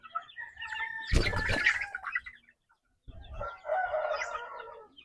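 Chickens clucking and calling up close, a burst of loud fowl noise, a brief pause, then more clucking and squawking.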